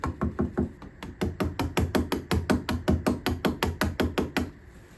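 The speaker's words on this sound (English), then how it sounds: "chisel this guy out" A 3mm chisel is tapped repeatedly while cutting out the nut slot on a custom guitar neck: a steady run of about twenty sharp, evenly spaced knocks, close and fairly quiet, with no talking.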